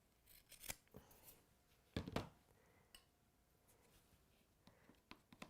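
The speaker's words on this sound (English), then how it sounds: "Let's cut that edge off." Scissors snip off the edge of a craft piece, producing a few sharp, close cuts scattered among quiet rustling and handling noises.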